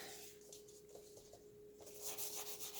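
A brush lightly strokes ink onto crinkled seam binding, giving faint, soft rubbing and scratching sounds in quick repeated strokes, close up but quiet.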